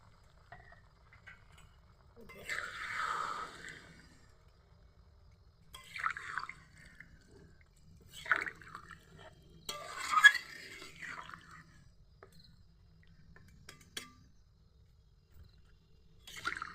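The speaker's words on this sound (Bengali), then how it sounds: "এবার জল দিয়ে দিই" Water being poured into a pan of simmering chicken and cauliflower curry, arriving as several short, soft splashing bursts separated by quiet pauses.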